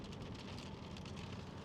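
Steady heavy rain drums on a truck right after a dust storm, a dense continuous patter close by with no letup and no voices.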